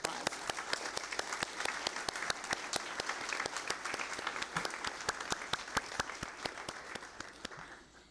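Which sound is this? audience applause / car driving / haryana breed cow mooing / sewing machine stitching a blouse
audience applause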